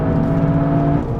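Toyota Yaris GR engine held high near its 7000 rpm limiter, a loud, steady droning whine heard briefly from inside the car.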